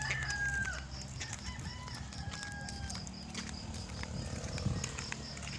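Farmyard chickens cluck and a rooster crows faintly in the background of a rural Philippine setting, scattered calls over a low murmur of voices and ambient noise.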